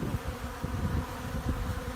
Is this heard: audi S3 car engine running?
no